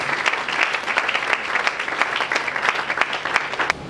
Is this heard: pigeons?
no